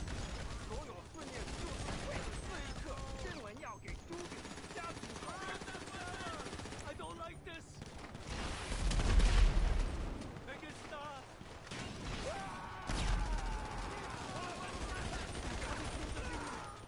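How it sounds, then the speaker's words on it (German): Heavy machine gun fire in GTA comes as repeated bursts and sustained rattling volleys, loud over background game noise, with someone talking in German throughout. "Ich muss wieder das schwere MG nehmen, mit dem ist es vorher besser gegangen."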